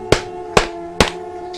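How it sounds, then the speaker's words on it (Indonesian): Footsteps on floor tiles as a horror sound effect: three sharp, evenly spaced hard steps, close and clear over a faint steady hum. "suara pijakan kaki menyentuh ubin lantai, suara kaki yang sedang melangkah berjalan"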